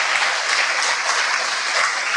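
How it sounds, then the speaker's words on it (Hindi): Audience at a Brahma Kumaris spiritual gathering clapping together, a loud, dense, even burst of applause lasting throughout with no talk over it. "ताली बजा दो"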